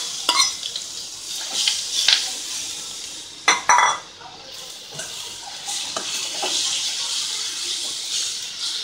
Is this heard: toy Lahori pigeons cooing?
no